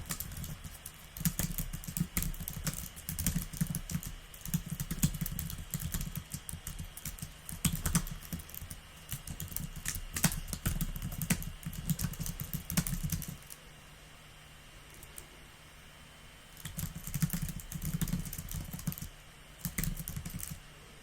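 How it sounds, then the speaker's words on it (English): Fingers type on a computer keyboard in steady bursts of quick clicks, close and moderately loud, with a short lull before the keystrokes pick up again near the end. "So I'll type something out here."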